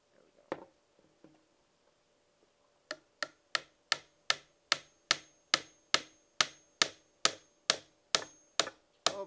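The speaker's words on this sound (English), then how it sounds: "So we're gonna nail it down." Hammer blows driving nails into a wooden bird house held in a large clamp: a few scattered taps, then a steady run of about eighteen sharp, evenly spaced strikes, close and loud, with no talk over them.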